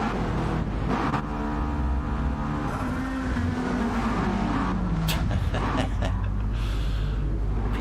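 Sim racing cars at Suzuka drone and rev in a video game while tyres skid and a sharp crash hits, with a voice talking over the loud engine noise.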